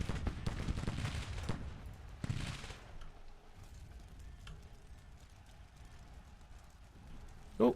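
Musket and artillery gunfire in the Grand Tactician Civil War strategy game: distant, muffled volleys and crackling bursts near the start, then a fainter rumble of battle fading into quieter background.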